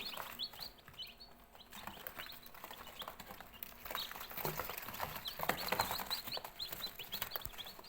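Small black chicks chirp and peep constantly in high, rapid calls, fairly close, with light scratching and rustling underneath.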